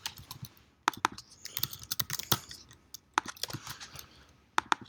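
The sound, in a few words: typing on a computer keyboard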